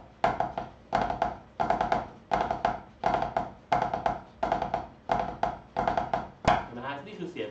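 A drum rudiment called Cheese is played on a drum in nine evenly spaced bursts of quick grace-note taps and accented strokes, close and clear, ending in a brief ringing decay.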